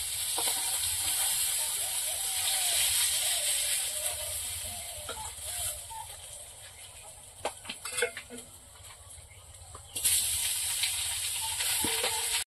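Fish fries in a pan in a home kitchen, giving a soft continuous sizzle with a few light clinks of utensils, fairly quiet and with no talk.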